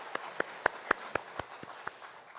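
A church congregation at a Sunday worship service gives a short burst of sparse applause, a handful of distinct claps spaced unevenly and fading out over a couple of seconds, fairly quiet and without talk.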